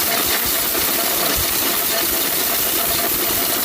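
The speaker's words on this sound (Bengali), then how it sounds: "ভাই ব্লেন্ডারে গিয়ার চেক করতেছি" An electric blender runs steadily as its speed gear is checked after grinding contents to powder, a loud continuous whirring hiss with rattling texture throughout.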